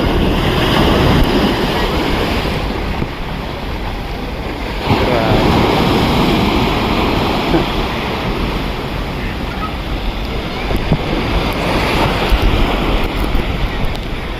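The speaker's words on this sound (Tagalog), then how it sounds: "Dito, lakas ng alon, grabe." Strong ocean waves crash near rock formations in Boracay, a loud continuous roar of surf mixed with heavy wind buffeting the microphone.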